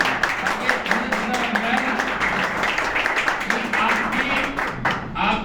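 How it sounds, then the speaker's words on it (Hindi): Audience clapping in a large gathering at a talk on freedom from addiction, steady dense applause throughout with voices mixed in. "जो भी बात आपको लगे सच है तो तालियों से बता दिया करें"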